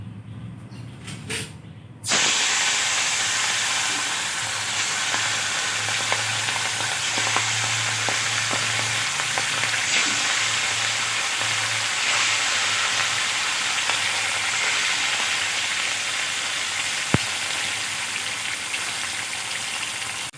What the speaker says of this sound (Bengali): মাছগুলো আমি লালচে করে উল্টে পাল্টে ভেজে নিয়েছি